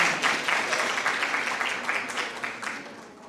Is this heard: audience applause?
yes